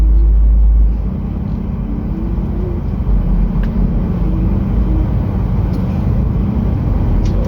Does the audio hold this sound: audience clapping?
no